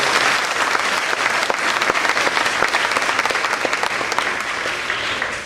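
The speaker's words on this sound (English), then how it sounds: "give her a big round of applause, please" Sustained clapping fills the room at a D.A.R.E. graduation at Kensington Elementary, an audience applauding steadily and loudly before tapering off at the end.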